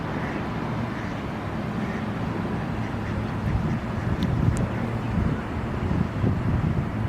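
Ducks quacking at Lake Eola park in downtown Orlando, a few soft calls rising briefly over steady outdoor wind rumble and distant water.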